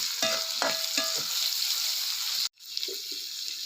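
Onion sautés in oil in a pan, a continuous bright sizzle with a few spoon scrapes early on, cut off abruptly by a short silence before softer frying returns.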